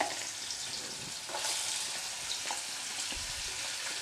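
Small cut potato pieces fry in mustard oil in a pan with a steady, broadband sizzle, brightening slightly partway through, with a few soft stirring scrapes and no voices.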